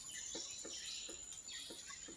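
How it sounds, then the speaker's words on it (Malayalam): A woodpecker taps on a rotten tree at a steady pace, five or six evenly spaced knocks against a constant hiss of insects and distant birds in a sacred grove in Kannur, Kerala. "ഒരു ദ്രവിച്ചുപോയ മരത്തിൽ തുടരെ തുടരെ കൊത്തിക്കൊണ്ടിരിക്കുകയാണ് ഈ ഒരു മരം കൊത്തി"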